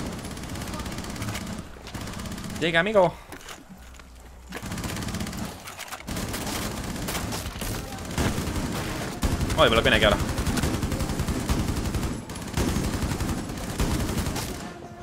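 Gunfire from Rainbow Six Siege in its realistic-mode Outbreak campaign, sustained bursts and fusillades running through the whole stretch under game sounds, with players talking over it.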